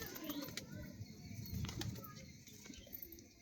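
Pigeons gathered for feeding give soft, low coos and intermittent bursts of flapping wings, faint and fairly distant, with a steady murmur of birds throughout.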